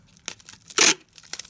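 Scotch tape pulled and torn while wrapping chips and adapters in protective packaging for shipment: one loud, sustained rip near the middle, with small crinkles and ticks of handling before and after, close and quiet otherwise.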